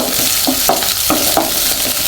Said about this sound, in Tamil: ஆனியன் பார்த்திங்கன்னா நல்லா ரோஸ்ட் ஆகட்டும்